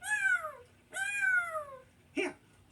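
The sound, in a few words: cat meowing in a video game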